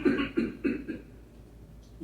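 A person coughs repeatedly during a conscious-choking first-aid demonstration, three short, close coughs in quick succession, followed by quieter room sound.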